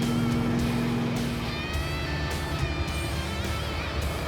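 A loud car engine rumbles nearby on a road trip, a deep, steady drone with rising harmonic whines as it revs, heard from inside another moving car, with no talking during it.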